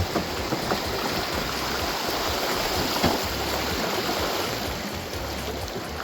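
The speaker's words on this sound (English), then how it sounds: "Our captain have to use up his skills to take us through these rapids" Rushing river rapids churn steadily around a bamboo raft, a loud continuous wash of water with low rumbling surges throughout and no voices.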